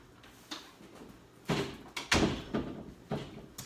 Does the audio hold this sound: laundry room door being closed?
yes